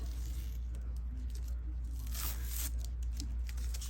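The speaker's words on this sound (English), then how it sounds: "Now I do want to remove my tape" Tape being peeled off a fabric crossbody bag, heard as short close tearing and crinkling rips over a loud constant low machine hum, with no talking.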